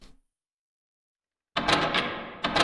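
A door shutting in a horror video game where a monster claps, heard as a sudden loud burst after near silence, then a second sharper knock near the end, with no talk over it.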